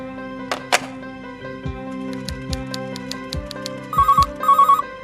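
A telephone ringing with repeated electronic tones, pulsing in short bursts over a busy musical background, no voices.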